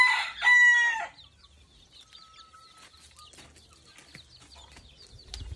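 A rooster crows loudly once up close among breeding roosters, followed by quieter scattered clucks and bird noises in the background.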